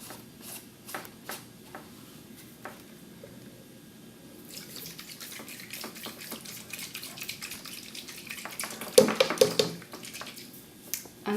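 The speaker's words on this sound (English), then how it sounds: "Screw on the sonde and shake the solution around to rinse the bottle and the sonde." Rinse solution sloshes and rattles inside a calibration bottle screwed onto a water-quality sonde as it is shaken, starting as sparse faint clicks and building into busier, louder splashing bursts near the end.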